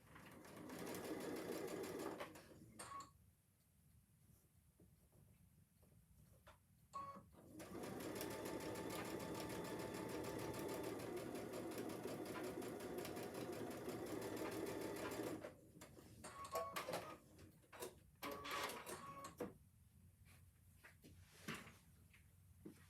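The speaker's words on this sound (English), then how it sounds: "We're going to sew that together." Sewing machine stitching quilted placemat pieces together, running in two long steady bursts of motor whir separated by quiet pauses with faint handling clicks.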